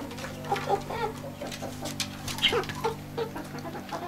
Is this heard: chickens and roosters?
yes